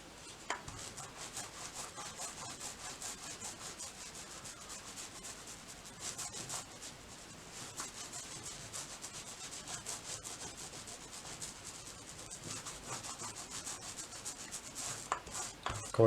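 A paintbrush works paint along masking-tape edges while painting a diamond pattern, giving a steady, close, dry scratchy rubbing that runs without pause.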